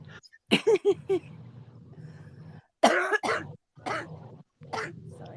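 Several harsh coughs come in bursts, close to the microphone, separated by pauses with a low background hum.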